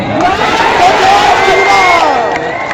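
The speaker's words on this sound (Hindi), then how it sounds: "यहां पे मैं देख रहा हूं 25-30 हजार की भीड़ आ गई है।" A large political rally crowd in Arwal, Bihar, cheering and shouting loudly and continuously, with voices rising and falling in a broad roar.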